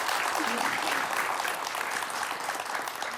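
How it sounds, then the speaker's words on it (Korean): A studio audience claps warmly for a few seconds after a motivational lecture on a Korean talk show, a dense, even burst of applause that holds steady without any speech over it. "박수 한번 보내드릴까요?"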